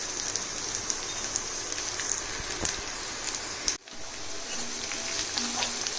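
Chopped garlic frying with onions in a pan makes a dense, steady crackling sizzle, close and even throughout, broken by one brief dip near the middle, with no voices.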